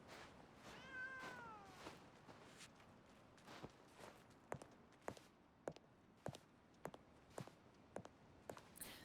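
A cat meows once, a rising-then-falling cry close by, followed by a series of sharp, evenly spaced knocks or footfalls.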